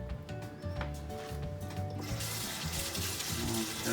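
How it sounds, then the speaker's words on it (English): Water runs from a kitchen tap over a hand in a sink, a steady full splashing rush that grows brighter and louder partway through, heard close over a faint background hum. "I'm going to rinse my hand off."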